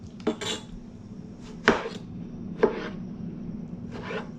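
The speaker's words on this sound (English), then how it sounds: "we are going to cut tomato just roughly" A knife chops a tomato into rough cubes on a board, a few separate knocks spaced unevenly and fairly close, each with a short scraping tail, over a faint steady background hum.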